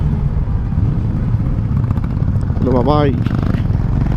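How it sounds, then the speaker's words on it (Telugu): Honda Bigwing motorcycle engine echoing inside a small, narrow bike-only tunnel, a loud steady rumble throughout with a brief spoken word near the middle. "ఇలాంటి టనల్స్లో మన బండి సౌండ్ మాత్రం సూపర్ వస్తుంది."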